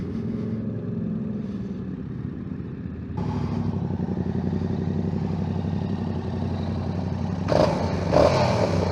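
Steady engine drone of a Yamaha motorcycle running with a clunky, uneven tone and vibration, getting louder partway through, with a brief rattling rise near the end and no talking.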